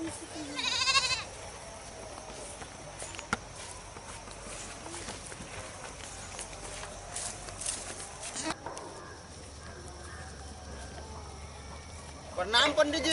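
Young goat bleating in a rural setting, a few short high bleats near the start and again at the end, with voices talking and footsteps in between.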